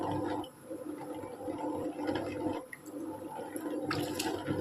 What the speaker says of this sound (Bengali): ভাতটা এবার টকবক করে ফুটছে